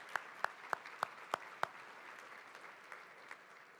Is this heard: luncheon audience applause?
yes